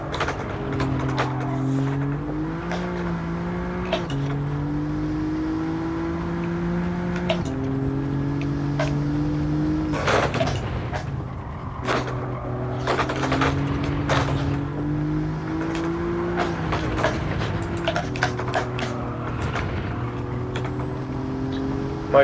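Alfa Romeo Giulia GTAm race car engine in Gran Turismo 7, a steady droning engine note that climbs through the revs and drops at each gear change, with occasional clunks and bumps, heard throughout.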